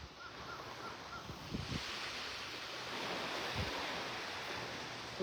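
Ocean surf washes onto a Gulf beach at Delnor-Wiggins in North Naples, Florida, as the tide comes in, a soft continuous roar with wind buffeting the microphone and an occasional distant crow call.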